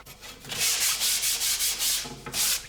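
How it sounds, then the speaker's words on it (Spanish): Sandpaper rubs rhythmically against the top edge of a wooden drum hoop in quick back-and-forth strokes, close and steady, with a brief pause before the strokes resume. "darle un poco de lija por la parte de arriba para dejarlo más redondo"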